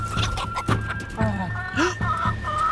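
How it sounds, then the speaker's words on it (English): Around a thousand chickens on a fish farm cluck loudly and repeatedly at close range, with short squawks and rising calls overlapping in a busy, continuous flurry. "The chickens are getting really loud right now"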